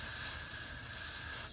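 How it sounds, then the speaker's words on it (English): Got To Be Goo hair spray hissing steadily from the can as it is sprayed onto soft locs, a close, continuous mist lasting about a second and a half with no talking. "So then grab the Got To Be Goo spray"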